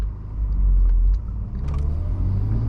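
A 1997 BMW 320i touring car's engine hums low and steady from inside the cabin while driving, a smooth constant rumble with slight swells and no voices.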